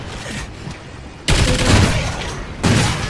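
Bursts of rapid gunfire from a turret in a multiplayer shooter's extinction mode, two loud sustained volleys with a quieter stretch of game noise before them, no one speaking.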